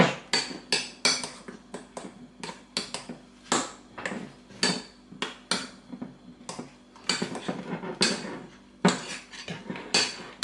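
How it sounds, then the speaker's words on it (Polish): A utensil clinks and scrapes against a dish in rapid, irregular strokes while strawberry tiramisu cream is spread over sponge biscuits, close and fairly loud, with no talking. "Składniki już mam połączone i teraz wykładam na przygotowane biszkopty."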